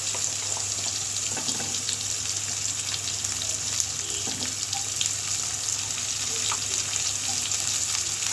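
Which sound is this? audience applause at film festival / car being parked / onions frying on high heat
onions frying on high heat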